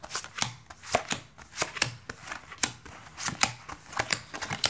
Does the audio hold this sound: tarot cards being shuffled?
yes